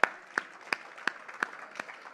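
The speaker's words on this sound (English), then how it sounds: "Give yourselves a round of applause." Crowd at Crypto Fest 2022 claps after an NFT presentation, heard as a slow, evenly spaced run of six distinct claps, each sharp and separate, with little sound between them.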